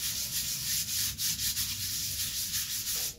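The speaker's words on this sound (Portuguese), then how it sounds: "Agora nós vamos entrar com uma lixa 120, pode ser uma lixa gasta" Worn 120-grit sandpaper rubbing back and forth over a surface to level it, close and continuous with rhythmic strokes and no talk.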